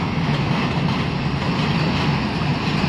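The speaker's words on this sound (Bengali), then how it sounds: "এই ট্রেনটাই আন্তনগর তিস্তা সেতুতে প্রবেশ করেছে।" An intercity train crossing the 124-year-old Teesta rail bridge slowly, a loud continuous rumble of wheels and cars, close and steady throughout.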